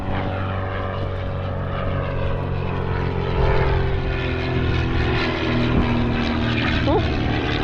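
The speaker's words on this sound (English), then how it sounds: "Oh, little plane." A small propeller airplane passes overhead above a kayak on open water, a steady droning engine that swells slightly louder, with water and paddling noises close by.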